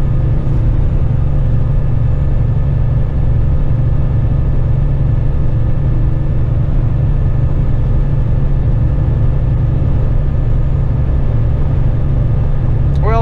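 A Kenworth heavy truck merges onto the freeway, its engine a steady low rumble with constant road and cab noise throughout, loud and close from inside the cab.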